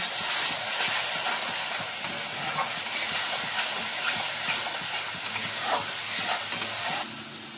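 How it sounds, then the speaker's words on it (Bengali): Masala with sugar and a splash of water being stir-fried in a pan for a jackfruit-prawn curry, a constant loud steamy sizzle with repeated spatula scrapes and clinks near the end. "আবারও একটু ভালো করে কষিয়ে নেব"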